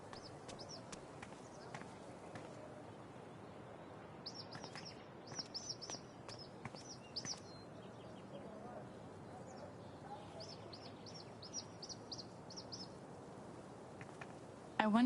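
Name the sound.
bird chirping in video game Life is Strange True Colors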